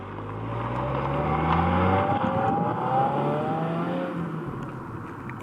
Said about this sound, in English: It's time to drive the Subaru WRX TR.